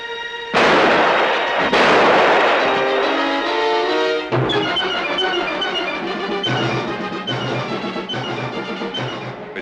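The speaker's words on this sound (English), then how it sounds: "Good shot, Vogel." Gunshots in a 1949 adventure film noir: two sharp, loud bursts near the start, followed by a dramatic orchestral score with punchy accents, with no dialogue.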